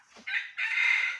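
A single labuyo rooster, a wild junglefowl, crows close by: a short opening note, a brief break, then a long bright drawn-out call.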